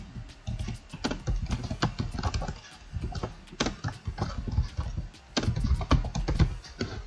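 Rapid, irregular clicking of keys on a computer keyboard as an email address is entered, close and steady for about seven seconds with brief pauses between bursts.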